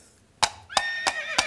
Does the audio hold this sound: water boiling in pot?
no